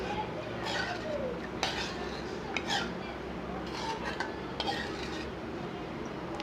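Moong dal being dry-roasted and stirred in a pan, with scraping strokes and small clinks of a spoon against the metal at an even pace over a soft background hiss.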